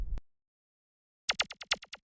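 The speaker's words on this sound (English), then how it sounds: "Just a super simple like zap sound effect." Short zap percussion hits programmed in FL Studio for a hard-hitting trap beat, a quick burst of several sharp, bright electronic zaps after a brief low thud and a pause of silence.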